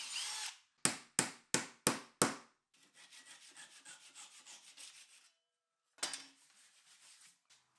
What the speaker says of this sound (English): a few areas I needed to drill them out before plugging them